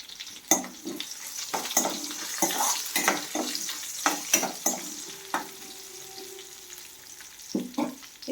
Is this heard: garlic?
yes